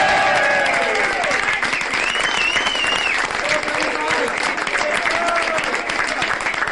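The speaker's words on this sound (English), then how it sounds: "Give a big round of applause for Mr." A crowd of guests applauding at a social gathering in Bairds, steady dense clapping throughout with cheers and whistles rising over it.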